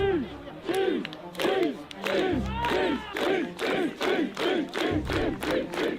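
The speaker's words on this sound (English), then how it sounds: "That's the crowd. Look at that fucking crowd." A large crowd at a cheese rolling hill race lets out a loud, rhythmic run of rising-and-falling whoops and shouts, about two per second, sustained across the whole stretch.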